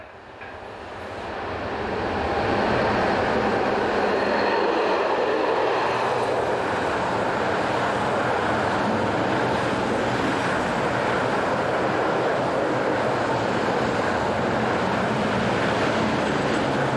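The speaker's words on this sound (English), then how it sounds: "a pair of BLS 465s head north with a train of complete lorries" A pair of BLS 465 electric locomotives hauls a train of complete lorries northward through Switzerland, a loud, sustained rumble of wheels and motors that swells in over the first few seconds and then rolls on steadily.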